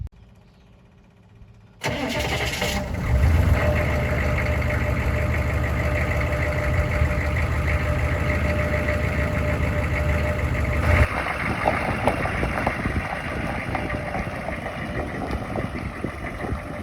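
A 1996 6.5 Detroit Diesel truck engine cranks and starts after a quiet moment, then settles into a loud, steady rumbling idle with a slight shift in tone partway through.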